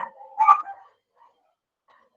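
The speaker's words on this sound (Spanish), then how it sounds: "Vayan a ladrar al otro lado, por favor." A dog barks once, a short, loud bark near the start, then quiet, with a brief sound cut off at the very end.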